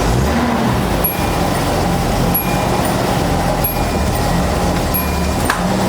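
A 1979 Datsun 280ZX, revived after sitting abandoned for a decade, runs with a loud, steady engine drone as it creeps along in a garage, with faint clicks and knocks over the rumble.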